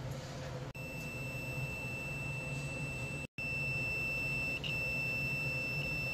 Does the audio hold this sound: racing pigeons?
no